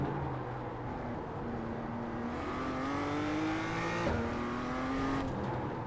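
A BMW M2 rookie race car engine in iRacing, steady droning tone that climbs with each gear, a quick shift break midway, moderately loud with no talking.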